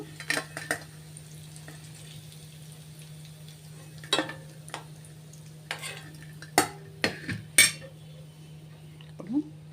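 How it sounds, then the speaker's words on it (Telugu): Paneer pieces fry in a pan for a Telugu-style thotakura paneer curry, with a quiet steady sizzle beneath scattered clinks and scrapes of a spoon stirring and turning the pieces, and someone speaking at times. "మిగిలిన పీసెస్ అన్నీ కూడా వేసి వేయించుకుందాం"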